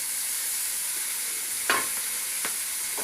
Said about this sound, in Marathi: आता थोडासा कांदा आपण परतून घेऊया आणि आणखीन थोडंसं तेल मी त्याच्यासाठी वापरते